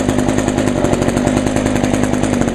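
The small two-stroke engine of an Echo HC 150 hedge trimmer idles after a carburetor replacement, a loud, close, steady buzzing putter with an even rapid pulse throughout.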